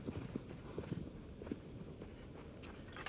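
Horse hooves clip-clop at an uneven trotting rhythm in Shadow of the Colossus, soft and moderately close over a faint ambient bed.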